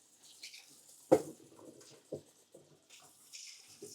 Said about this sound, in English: just use a bit of cold water, fill it up, give it a little shake